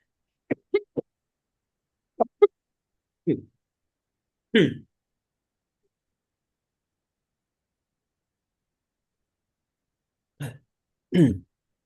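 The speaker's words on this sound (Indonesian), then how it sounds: "Sedikit batuk." A few short, close coughs and throat-clearing bursts during a Quran recitation lesson come in scattered pairs, separated by long silent gaps.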